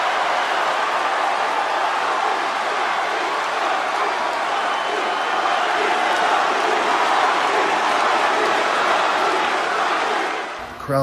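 A big wrestling arena crowd roars for The Rock, a dense sustained wall of cheering and applause that holds steady at full volume before cutting off abruptly.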